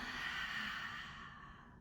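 A single long, deep exhale during a yoga flow, a soft airy breath close to the mic that fades gradually, with no talking.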